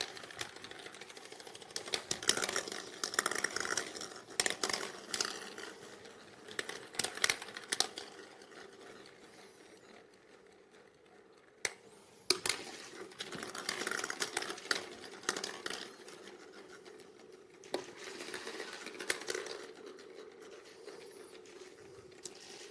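Numbered draw balls shuffled by hand in a glass bowl at a UEFA Champions League play-off draw, giving a continuous close clatter and rattling that rises and falls in bursts, with a brief lull in the middle and no talk.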